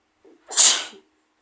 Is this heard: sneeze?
yes